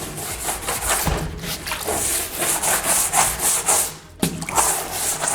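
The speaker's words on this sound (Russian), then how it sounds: "Кисточкой или щеткой промываем" A brush scrubs the inside of a bucket during plaster cleanup, in quick repeated rasping strokes with a brief pause near the end, close and loud.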